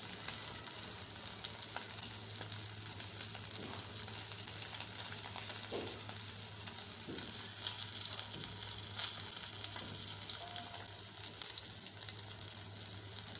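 Rohu fish fries in a pan with a quiet, even sizzle that runs steadily throughout, with a few faint taps from the pan.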